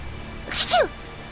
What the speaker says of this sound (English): Still, to think Seraphim sneeze just like we do.